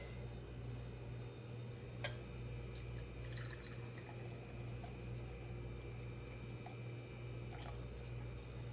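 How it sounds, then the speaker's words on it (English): Tea poured into a glass in a home kitchen, a quiet, steady liquid trickle with faint drips over a low background hum, heard close and without talk. "Then I'm going to pour in about half a glass full of tea."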